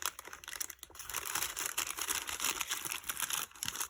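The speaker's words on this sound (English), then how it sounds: "You hear the lovely crunching," Thin glassine paper bag crinkling and rustling continuously, close up, with brief pauses in the handling.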